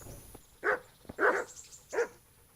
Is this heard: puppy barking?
yes